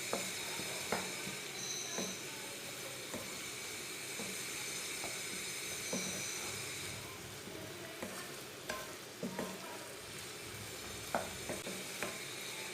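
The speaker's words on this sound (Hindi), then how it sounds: "भिंडी डाल के भी अच्छी तरह मिक्स कर लेंगे।" Okra frying in a pan with cream while it is stirred. A steady soft sizzle runs throughout, broken by regular light scrapes and taps of the spoon against the pan, close up, with no voices.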